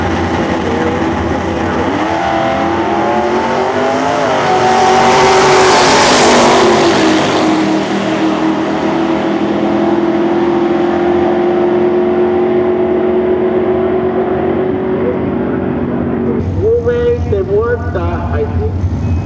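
A 1969 Chevrolet Camaro and a 1969 Chevrolet Chevelle at a drag race, engines roaring loudly with a surging rev as the cars launch, while an announcer talks over the noise.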